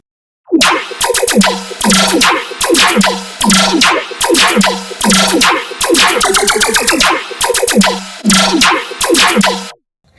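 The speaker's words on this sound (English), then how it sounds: "Let's once again compare the laserish effect and a clean version of the sample." Aggressive layered dubstep laser bass synth with zapping, laser-like tones, chopped into loud rhythmic phrases that repeat for several seconds before stopping abruptly.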